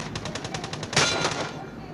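Rapid automatic gunfire in the mobile battle royale game Rules of Survival, a fast rhythmic burst of shots with a louder blast near the middle, continuous over two seconds with a player talking faintly underneath.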